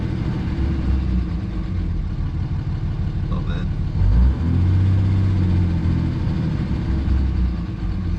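Diesel engine treated with Seafoam, idling with a steady low rumble and then revved once, the pitch rising and holding briefly, loud and close, with a short spoken remark over it.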